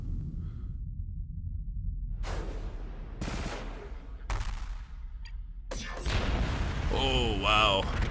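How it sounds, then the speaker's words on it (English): Missiles launching in volleys during a space battle in the strategy game Stars in Shadows, several separate heavy booming bursts a second apart followed by a denser rumbling barrage with whooshing tones, loud and close. "The key is just getting as many many missiles downrange as we possibly can."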